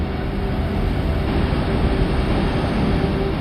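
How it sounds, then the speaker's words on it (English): Wind recorded on Saturn's moon Titan by the Huygens probe: a steady, dense roar of broadband rushing noise, constant and fairly loud for the whole stretch, with no voices. "The sound of the winds from a tiny moon nearly 1 billion miles away."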